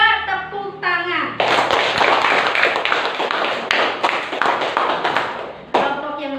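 A classroom of children claps hands together for about four seconds, a dense crackle of many small palms, with a voice briefly before and after.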